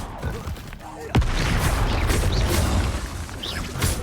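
Confringo fire blasts in the Hogwarts Legacy game: a sharp explosive burst followed by sustained rumbling combat noise and scattered magical whooshes, with bits of game sound layered over a loud, busy mix.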